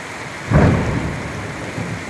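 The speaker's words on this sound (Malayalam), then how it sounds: "പെട്ടെന്നുള്ള മഴയിൽ ഇടിയും അത് പലർക്കും അപകടത്തിന് സാധ്യതയുണ്ടാകും" A deep rumble of thunder rolls in over a steady roar of heavy rain in Pathanapuram, swelling then fading.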